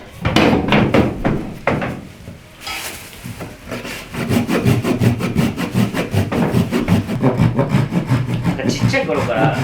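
A hand saw cuts a wooden board to size during a kitchen remodel, rasping close and loud in quick, regular back-and-forth strokes after a few opening knocks and a short pause.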